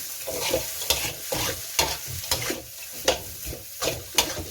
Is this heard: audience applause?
no